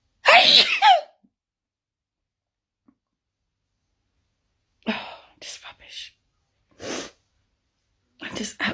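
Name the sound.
human sneezing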